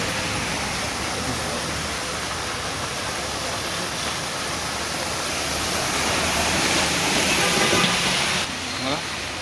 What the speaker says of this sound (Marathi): पाण्याचा जोर बघा तुम्ही।